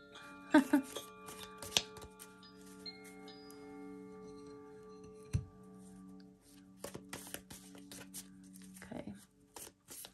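Soft papery riffles and flicks of tea leaf oracle cards being shuffled, intermittent and close, over a quiet steady hum.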